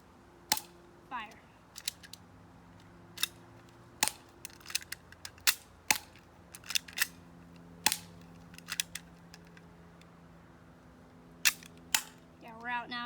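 An airsoft HK P30 pistol fires a string of sharp, snappy shots at irregular intervals, fairly close, with a brief voice and quiet rustling between some shots.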